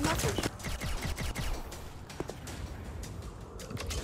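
Rapid gunfire in a video game as players shoot at a window, a dense run of sharp shots and bursts at moderate level, with voices faintly under it.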